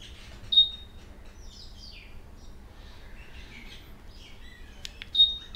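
A short high electronic chirp, a few seconds of quiet background, then another similar chirp as a Honda PCX 150 (2020) motorcycle locks from its key fob.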